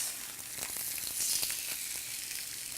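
A mahi mahi fillet sizzles steadily in a hot grill pan, giving a close, continuous frying crackle with small pops and no talking.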